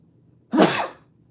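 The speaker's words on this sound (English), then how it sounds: "That sneeze has legitimately been trying to come out for like the last 4 hours." One short, sharp sneeze bursts out close to the mic after a quiet moment, then fades quickly.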